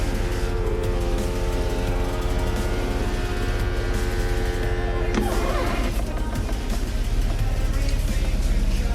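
The power convertible top of a Porsche Boxster 986 rises with a continuous mechanical whir over the car's steady engine hum, shifting in tone partway through.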